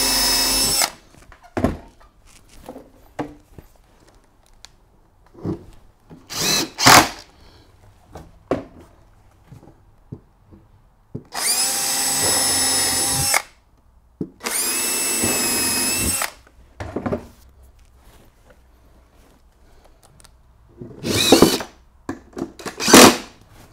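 A power drill drives screws through a stair riser into the wooden block behind it on a KwikStairs straight flight, with two long steady whirring runs amid short bursts, taps and handling noises, close by.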